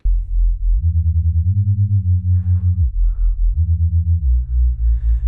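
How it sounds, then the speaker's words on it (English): Two low, pure detuned sine-wave synth tones play together as a drum and bass sub bass, beating against each other in a steady rapid pulse as the pitch steps up and down. "add in another sine wave in the same group here, and we're going to detune them from each other"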